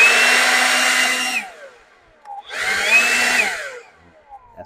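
A Craftsman cordless leaf blower runs with a loud, steady high whine for about a second and a half, cuts out and spins down, then starts again for another burst of roughly a second before winding down.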